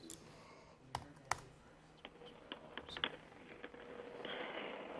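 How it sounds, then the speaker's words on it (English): Keys tapped on a computer keyboard during a remote interview: scattered, irregular clicks and ticks, some sharper than others, quiet and close, thickening into a denser patter toward the end. "I can hear you tapping away, I think, on a typewriter"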